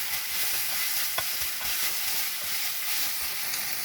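Tomatoes being stirred with salt in a hot pan, giving a steady close sizzle and hiss with soft scraping movements throughout.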